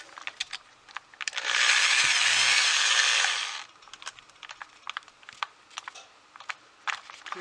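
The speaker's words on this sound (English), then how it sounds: "Take your drill," A power drill spins a broken terminal stud on a Lionel KW transformer, a loud, steady whir of about two seconds amid scattered clicks and handling taps.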